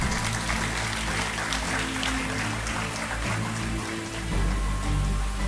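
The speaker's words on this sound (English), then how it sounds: "Please let the claps continue." Sustained applause from an audience at an annual prize distribution ceremony, dense steady clapping throughout, with no break.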